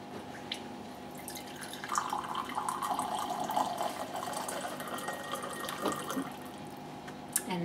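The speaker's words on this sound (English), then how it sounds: "To pour a glass of cold water, you simply press the cold water button here." Chilled water from a mains-fed water cooler runs into a glass in a soft continuous trickle, close and quiet, with small drips and a clink near the end.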